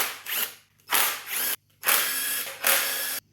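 Bolts holding the oil scavenge pumps, one with a 10mm fitting, are loosened on a BMW S62 V8 engine: four close, loud bursts of a power tool or ratcheting driver separated by short silences, with no talk.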